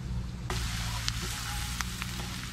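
Onions and spices fry in a pan with a steady close hiss and sizzle, and a brief louder crackle as something is stirred in partway through.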